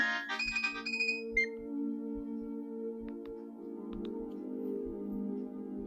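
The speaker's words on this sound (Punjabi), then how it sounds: "ਫੋਨ ਕਿਦਾ ਆ ਗਿਆ" A mobile phone ringtone plays indoors, a bright melodic electronic tune with repeating notes over a low pulsing beat, steady and moderately loud, with no voices.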